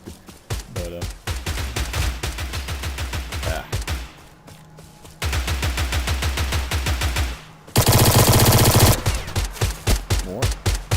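Burst-fire gun in a video game, firing in rapid clusters of sharp, evenly spaced shots with short pauses between bursts, loud and close, with one dense, harsher stretch near the end.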